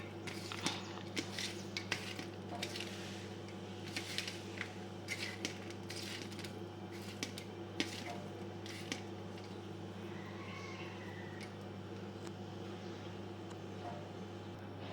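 Chopped dates are stirred into a wheat flour batter, with scattered light clicks and scrapes of a utensil against the bowl over a steady low hum. There is no talking.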